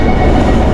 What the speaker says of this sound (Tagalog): Nakasakay na kami ng MRT mga paps.